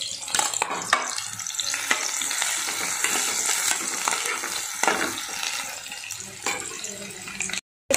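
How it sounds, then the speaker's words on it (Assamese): Potatoes and dang bori frying in refined oil in a home kitchen, a close, continuous sizzle broken by repeated scraping stirs and clinks of the utensil against the pan, with faint speech at times. "ইফালে আলু আৰু ডাংবাতি অলপ ভাজিছোঁ"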